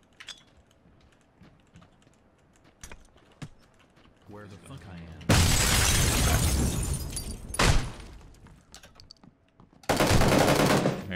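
Gunfire in the video game PUBG, two loud bursts of rapid shots and an earlier brief volley, over soft keyboard clicking and background game sounds.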